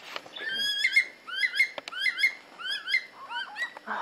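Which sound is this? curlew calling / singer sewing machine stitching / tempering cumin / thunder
curlew calling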